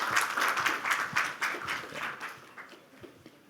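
Conference audience applause welcoming a speaker, a dense patter of many hands clapping that is loud at first and then thins and fades toward the end.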